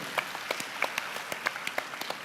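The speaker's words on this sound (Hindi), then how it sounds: "जरा तालियां इनके लिए जोर से होनी चाहिए।" Audience applauding a performer on a stage show, a brisk, fairly close round of clapping with distinct individual claps spread evenly across the moment.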